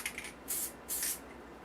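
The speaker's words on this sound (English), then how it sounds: "I'm going to take a little bit of spray glue and I'm going to spray it right here on the batting" Spray glue hisses out of an aerosol can onto quilt batting on a duct-tape mannequin in two steady bursts of about half a second each, loud and close, with faint rustling handling before and between.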